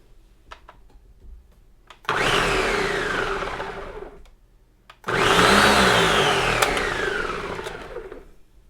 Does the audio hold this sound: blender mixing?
yes